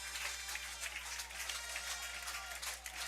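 Home crowd at a Redbank Valley high school football game in New Bethlehem cheering and clapping as the team runs out, a steady wash of distant applause and crowd noise under a low hum.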